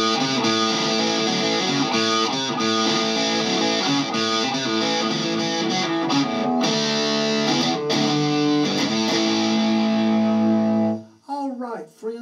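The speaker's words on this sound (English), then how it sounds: "if you want to get a little dirty, just throw on some distortion" A 24-fret cigar box guitar with active EMG pickups plays through heavy distortion, sustained gritty chords and riffs ringing loud for about eleven seconds before cutting off into a brief burst of talk.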